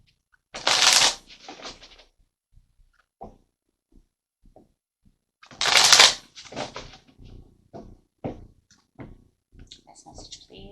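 Tarot cards are shuffled in two loud riffling bursts a few seconds apart, each followed by softer taps and flicks as cards are drawn and laid down, close and clear with no one talking.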